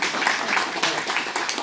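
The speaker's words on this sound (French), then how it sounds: "Donc on va t'applaudir." Members at an association's annual general meeting give a short burst of close, loud applause with dense overlapping clapping.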